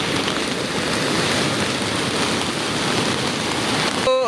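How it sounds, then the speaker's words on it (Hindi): A flooded river in Himachal Pradesh rushes past in a loud, dense, continuous roar; the knocking of stones underwater is not clearly separable from the churning water. "नीचे ना पत्थरों की बजने की आवाज़ आ रही बहुत जोर जोर से"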